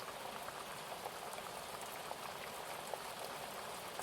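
Rain falls steadily, a dense, even patter of drops on a surface that holds at a constant level.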